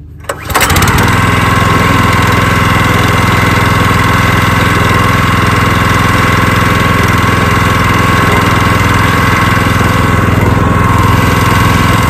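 A small pull-start engine catches after a short start and settles into a loud, steady idle with a constant buzzing drone for the rest of the clip.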